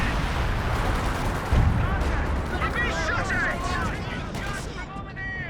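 Howitzer artillery fire in Company of Heroes 2, a dense rumbling barrage of booms with one heavier blast near the middle, continuous under battle noise and a talking voice.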